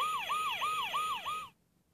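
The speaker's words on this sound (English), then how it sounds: "A fire engine has a siren." Toy fire engine siren from a LeapFrog talking jigsaw puzzle: a loud, close electronic wail rising and falling about five times in quick succession, then cutting off abruptly into quiet.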